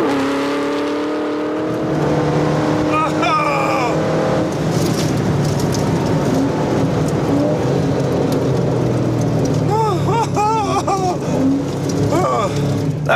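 A high-powered car of over 800 horsepower accelerates hard with its wheels spinning, the engine note climbing through repeated upshifts, loud and close, while someone talks excitedly over it.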